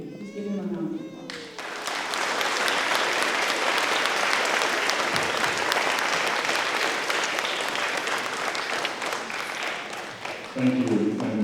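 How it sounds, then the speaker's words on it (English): An audience at a school celebration for military students applauds a Navy rear admiral, sustained even clapping that swells after brief speech and fades as talking resumes near the end. "Please give him a round of applause."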